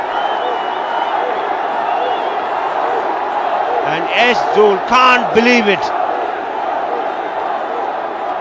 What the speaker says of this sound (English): The crowd is obviously roaring.